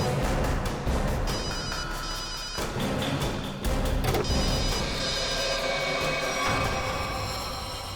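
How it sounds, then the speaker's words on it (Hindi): A telephone rings repeatedly amid a loud, busy background of clatter and noise during a search, the ringing steady throughout. "रिंग तो बज रही है।"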